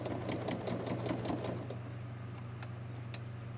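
A home sewing machine stitches a baby bib in a fast, even, rattling run close by, then slows into softer, sparser ticks as the sewing eases off.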